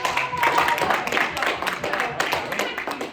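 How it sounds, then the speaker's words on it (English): Brief round of applause from a talk audience, moderately close and uneven, with scattered claps over a few seconds. "I think that deserves a round of applause."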